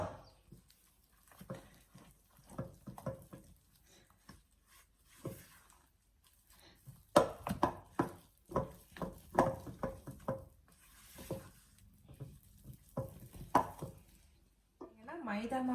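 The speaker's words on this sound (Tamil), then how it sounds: "கொஞ்சமாக போட்டு இதை மிக்ஸ் பண்ண போகிறேன்." Flour is mixed by hand into chocolate cake batter, making irregular soft scrapes, pats and dull thuds of the utensil in the bowl, close and fairly quiet, with brief gaps between bursts.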